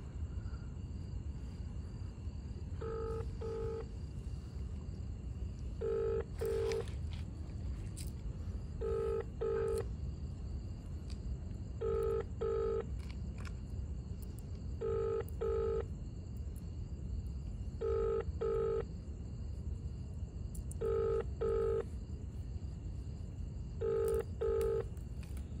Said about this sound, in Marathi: आता अनिकेत फोन लावते किट्टूला.